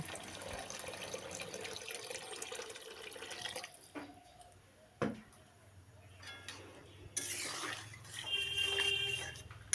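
Water poured into a pan of chickpeas being fried for a spicy chhola chhechki, a running splash and trickle that rises and falls in bursts, fairly close, with kitchen clatter in between.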